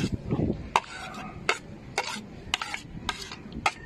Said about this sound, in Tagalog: So, paghaluin natin sibuyas, siling haba or siling berde, maraming luya,